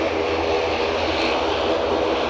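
A helicopter departing Aberdeen heliport gives a steady, loud engine roar that holds evenly throughout, with no voices over it.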